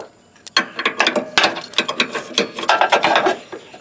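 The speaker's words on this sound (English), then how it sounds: "So I'm going to have to take this nut off and try to fit it in through the top." Ratchet wrench clicking while loosening a nut on a John Deere X310 lawn tractor mower deck, close and loud in quick irregular bursts with short pauses, no talking.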